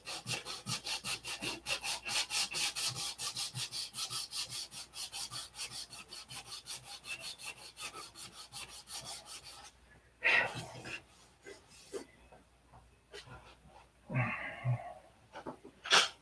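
Wood being hand-sanded with quick, even back-and-forth strokes for about ten seconds, close and moderately loud, followed by quieter scattered handling sounds and a couple of brief scrapes.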